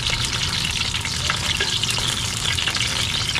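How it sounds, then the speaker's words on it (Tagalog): Vegetables and aromatics fry steadily in a hot pan, giving a dense, continuous sizzle at close range with faint stirring scrapes and no voices. "Bali magluluto muna tayo ng mga gulay, mga ricado. Lutuin natin."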